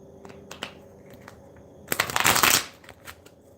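A deck of tarot cards is shuffled close by in a quick riffling burst lasting about half a second, with a few lighter card taps and handling noises before and after it in a quiet room.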